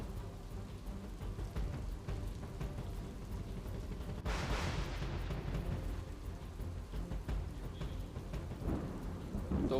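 Heavy rain pours steadily during flooding in Vadera village near Jafrabad, a dense close hiss of drops on surfaces with low rumbles of thunder underneath.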